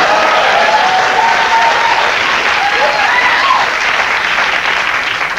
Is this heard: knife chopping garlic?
no